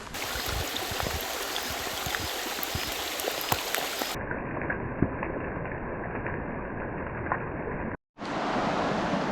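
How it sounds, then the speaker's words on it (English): Rain falls on a river during gold prospecting, a dense, steady hiss of water and drops with no voices; the sound shifts abruptly partway through and drops out briefly near the end before resuming. "I just wish the rain would bugger off."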